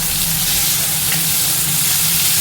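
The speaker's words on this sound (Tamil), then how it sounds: "இதுவும் நல்லா வதங்கட்டும்." Tomato sizzles and fries steadily in a hot pan with onion, ginger and garlic, a close, continuous crackling hiss with no voices.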